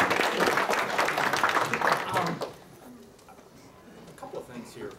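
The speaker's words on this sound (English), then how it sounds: "certainly deserves a round of applause" An audience at a university Chinese major ceremony claps for a couple of seconds, and the applause drops off sharply into a quiet room with a few faint sounds.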